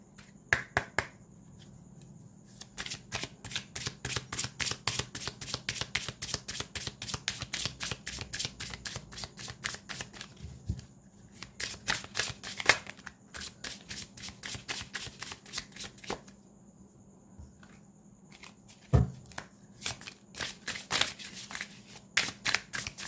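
Tarot cards being shuffled in quick riffling bursts of crisp flicks and snaps, close and steady, with short pauses between runs and no talking.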